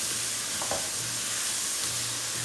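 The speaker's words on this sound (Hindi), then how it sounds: "आलू को भी अच्छे तरीके से कुक करते हैं, तकरीबन 2 से 3 मिनट इसे कुक करेंगे आलू को" Potatoes sizzling in a pan, a steady close frying hiss with a brief stir or scrape near the start and no voices.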